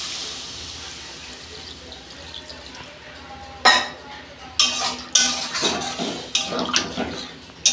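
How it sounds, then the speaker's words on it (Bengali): Water is poured into a pan of spiced cauliflower curry, a quiet simmer giving way to abrupt loud hissing bursts and splashy clatter as the liquid meets the hot pan, close by. "আমি পরিমাণ মতো জল দিচ্ছি।"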